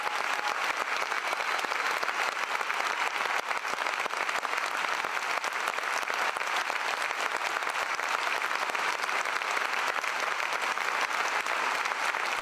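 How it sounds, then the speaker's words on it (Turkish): A concert audience at a show applauds steadily and densely, a full-room wash of clapping that holds at an even level throughout with no voices standing out. "seyirciler de onlara alkışlarıyla destek oldu"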